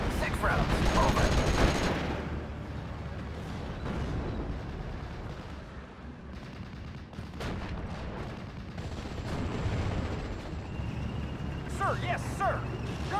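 Artillery fire mission in Steel Division: Normandy 44, a World War II strategy game set in Normandy, as a dense, continuous rumble of guns and explosions with overlapping blasts and a heavier burst near the start.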